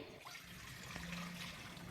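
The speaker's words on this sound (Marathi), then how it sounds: "पातेल्यामध्ये पाणी टाकायचं आहे" A continuous rushing gush of water pouring into a pot, steady and close, with no voices.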